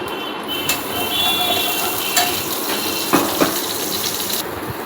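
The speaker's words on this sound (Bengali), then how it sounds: "তেলের মধ্যে পেঁয়াজ বাটাটা দিয়ে দিয়েছি" Onion paste fries in hot oil in a hot wok, giving a loud continuous hiss and spatter close by, with a few sharp pops and clinks along the way.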